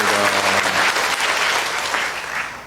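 A church congregation claps together during a Sunday worship service, the dense applause loud and steady throughout, tapering only slightly toward the end.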